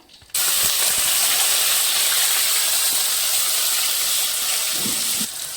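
Small onions dropped into hot groundnut oil, a loud steady close sizzle and hiss that starts abruptly and holds evenly before easing off near the end, without speech.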